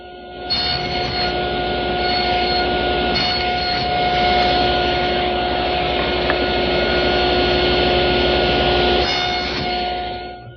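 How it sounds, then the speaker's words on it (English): A table saw with its blade raised an eighth of an inch nibbles away the top and bottom of wooden tenons, a steady loud whining roar with a faint dip near the middle, running for about ten seconds with no talk. "Now I've raised the blade 1/8 of an inch, and I'll nibble away at the top and bottom of each tenon."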